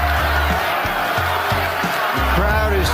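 Spectators at a world heavyweight championship boxing bout between Lennox Lewis and Hasim Rahman roar in a dense, continuous crowd din with rising shouts, under a commentator's voice.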